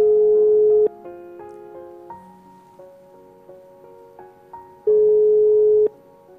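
A phone's ringing tone sounds in two long, loud beeps separated by a gap, with softer melodic electronic tones playing in between.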